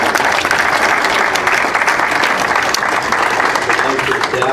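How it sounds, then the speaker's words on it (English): Attendees at a Chamber of Commerce luncheon forum at the Kelly Inn in Bismarck give sustained, loud, close applause after the meal, with some speech mixed into the clapping. "let's give a big round of applause for that meal here at the Kelly."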